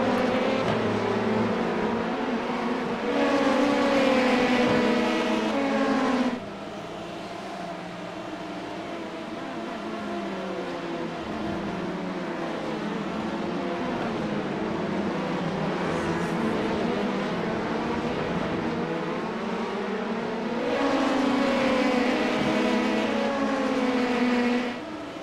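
LMP2 prototype race car engines in the iRacing video game during an IMSA race, a loud sustained engine drone that rises and falls with gear changes and throttle, with brief stretches of higher revving.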